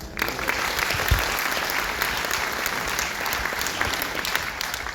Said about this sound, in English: Let's keep the applause going for JH and the whole team for organizing thi